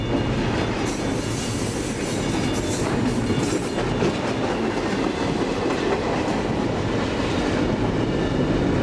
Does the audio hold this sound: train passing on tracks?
yes